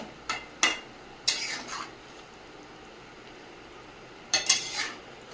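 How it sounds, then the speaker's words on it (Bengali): Fried tomatoes and fish tipped into a simmering potato curry in a pan, making a few soft clattering thuds and scrapes in separate bursts with quiet gaps between them and no talk. "এই পর্যায়ে ভেজে রাখা টমেটো আর মাছগুলো দিয়ে দেব"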